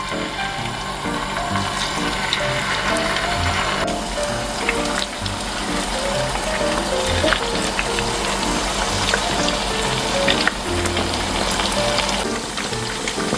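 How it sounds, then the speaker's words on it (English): Chicken wings frying in a heated pan full of oil, a dense continuous sizzle and crackle that stays loud and steady throughout, with some clinking and scraping in the background. "Now in a heated pan full of oil, add in your chicken wings."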